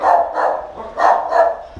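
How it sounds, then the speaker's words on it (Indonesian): A dog at a boarding and training kennel barks loudly and close by, four strong barks in two pairs, with no talk over them. "kita tes ntar gonggongannya"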